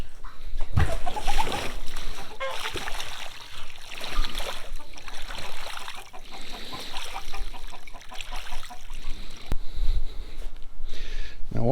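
Rainwater sloshes and splashes inside a rain barrel being cleaned for a chicken waterer, with repeated irregular churning and splatters up close, a few hard knocks, and clucking fowl nearby.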